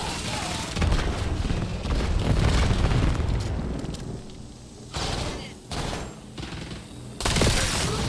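Dense bursts of explosions and rapid gunfire from a video game roar almost continuously, with loud booming stretches broken by brief quieter gaps.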